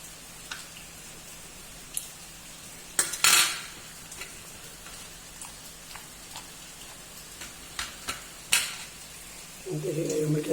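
Stir-fried beans being mixed with pepper powder in a pan, with scattered metallic clinks and scrapes of a spoon against the pan over a faint sizzle, ending in louder frying; no talk.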